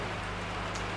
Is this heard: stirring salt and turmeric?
no